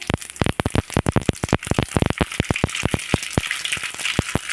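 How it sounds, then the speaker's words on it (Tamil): Rapid, irregular popping and crackling of mustard seeds spluttering in hot oil, dozens of sharp bursts over a steady sizzle, close and loud. "இதில் நான் கடுகு போடுறேன் ரெண்டு டேபிள் ஸ்பூன் கடுகு போட்டிருக்கேன்"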